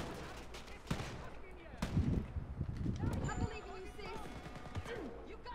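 Gunfire and explosions in the video game Wolfenstein: Youngblood, bursts of shots and blasts over game sound effects.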